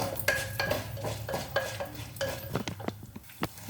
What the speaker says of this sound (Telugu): ఇప్పుడు ఈ పోపులు వేగుతున్నాయి కదా